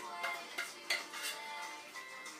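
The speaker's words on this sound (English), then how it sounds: "so I'm going to scrape the pan here" A utensil scrapes and taps against a cake pan in a home kitchen, making a few soft clinks and brief scrapes at a moderate distance, fairly quiet overall.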